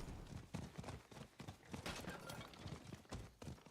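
Hoofbeats of a horse galloping in Diablo 4, a steady run of clip-clop strikes with game sound effects layered over it, fairly loud throughout with no talking.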